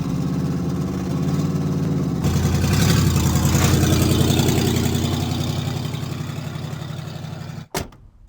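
A car engine sound effect from the UVI WaveFrame sound library hums steadily, rising into a rev and then settling, before cutting off abruptly near the end.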